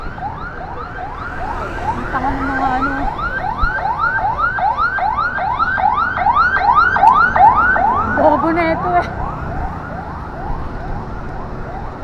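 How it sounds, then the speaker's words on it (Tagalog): An ambulance siren wails in a fast repeating yelp, loud and close as it passes along the road, with someone talking briefly over it from inside a vehicle. "Oh, tabi, may ambulansya."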